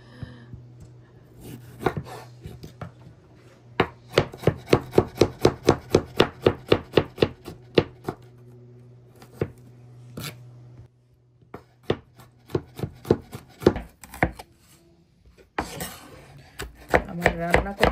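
Bitter gourd chopped fine with a knife on a cutting board for freezing, a fast steady run of close, crisp knife strikes with brief pauses between bursts.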